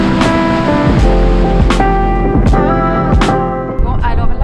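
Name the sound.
Skógafoss waterfall in Iceland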